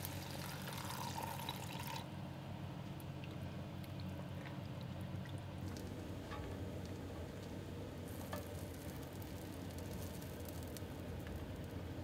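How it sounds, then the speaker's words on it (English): Warm beef broth pours into a pan with flour over a camp stove on a cold night of truck camping. A faint, steady sizzle and liquid pour carry on without a break the whole time, with no one talking. "Got that warm beef broth going in."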